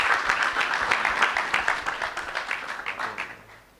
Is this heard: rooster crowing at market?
no